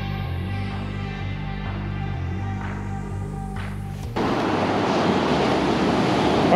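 Surf breaking on the beach at Assateague Island, a steady roar of waves with tonal hum at first, then a louder broadband wash of breaking surf swelling in the second half, close and continuous with no talk.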